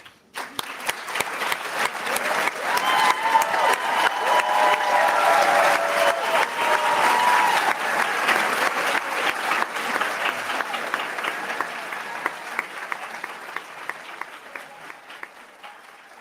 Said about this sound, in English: I want a big round of applause to you